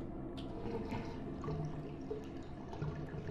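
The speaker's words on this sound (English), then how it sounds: "Flush the toilet." A toilet flushes in the video game Deadly Premonition, giving a faint, continuous wash of rushing and gurgling water.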